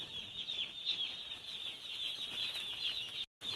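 Broiler chicks on placement day inside a poultry farm shed, a steady dense chorus of high peeping from many birds, continuous and fairly close, briefly cutting out near the end.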